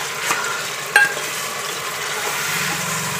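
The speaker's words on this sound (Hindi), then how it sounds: "मैं इसमें 2 चम्मच अदरक लहसुन का पेस्ट डालूंगी। अब इसको मिक्स करके अच्छा सा भून लेंगे।" Ginger garlic paste being stirred and fried with meat in a pan, a steady close sizzle with a couple of spoon scrapes and knocks near the start, no talking.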